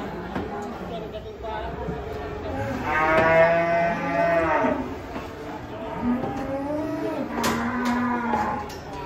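Cattle mooing and lowing in long, drawn-out calls, several overlapping, close by, with people talking in the background.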